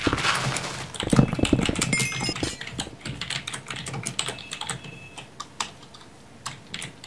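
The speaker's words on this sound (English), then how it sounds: "Who are you typing to?" Rapid clattering keystrokes on a computer keyboard, close and clear, in irregular bursts that thin out into scattered taps toward the end, with no talk over them.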